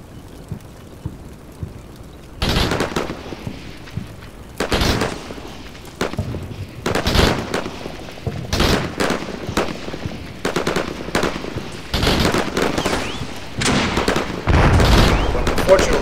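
Bursts of rapid machine gun fire and scattered gunshots from the video game Combat Mission Shock Force, arriving in loud clusters separated by quieter stretches, with a steady crackle underneath.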